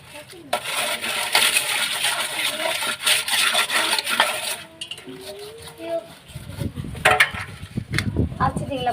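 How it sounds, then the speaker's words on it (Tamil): Brass kitchen vessel scrubbed by hand with brick powder, a steady gritty rubbing and scraping with clinks of metal, the scrubbing fading out partway as voices talk in the background. "இது மாதிரி நான் எல்லா பாத்திரத்தையும் கழுவிக்கிறேன்"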